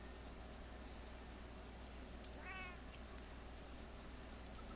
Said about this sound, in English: Look, we found a kitty.